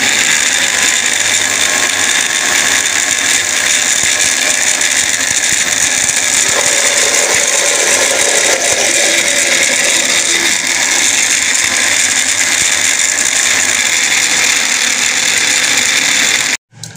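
An electric grinder runs loudly and steadily, whirring as it grinds plums into chutney for a Pakistani laddu pethi dish, with a constant motor drone that cuts off abruptly near the end.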